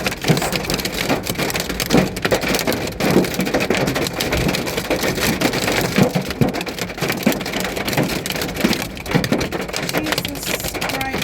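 Hail and heavy rain pound down during a storm in Orlando, Florida, a dense, continuous loud roar of drops with sharp crackling impacts on hard surfaces and no letup.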